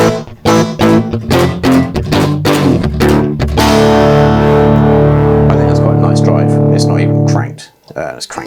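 A Eurorack modular synth plays rhythmic notes, then a long sustained tone, all thick with gritty overdriven drive distortion, loud and close, ending with a brief stutter.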